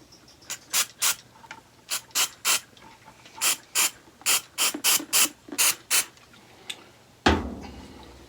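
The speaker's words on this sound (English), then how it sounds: "Just spray that again." Short hissing bursts of Great Stuff Pro foam gun aerosol cleaner, about a dozen quick pumps in an uneven rhythm, close and clear, ending with a louder clatter.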